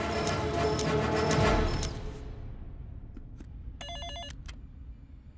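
A telephone bell rings in bright repeated bursts, first over loud music and action-film sound, then alone in a quiet room, with two more short rings near the end.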